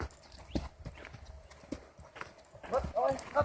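A horse walks along a trail ride, hooves clip-clopping in an uneven rhythm close by, with a rider talking over the steps.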